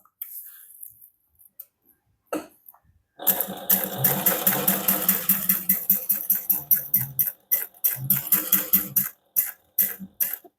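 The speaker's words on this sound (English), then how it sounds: "we're going to sew down that side using an 1/8 of an inch also." A sewing machine stitches a fabric notepad holder, a few brief starts and then a close, loud run of rapid rhythmic mechanical pulses that pause and resume toward the end.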